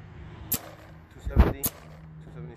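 A Planet Eclipse GSL paintball marker fitted with a Silencio barrel fires three muffled shots, one on its own and then two more close together, each a short dull pop with a faint hiss. The shots are close and fairly quiet.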